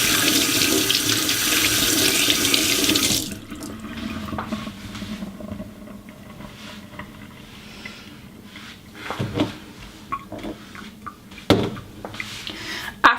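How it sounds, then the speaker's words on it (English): Tap water gushes loudly into a sink while hands are rinsed, then shuts off, leaving quieter handling noises, light knocks and a few clunks. "My hands are dirty, so I'm gonna rinse them"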